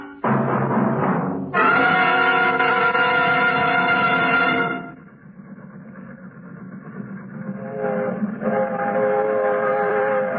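Freight train sound effect from an old-time radio drama: a loud, steady rumble with a blaring whistle-like tone for several seconds, then a quieter rolling clatter that swells again near the end, no voices.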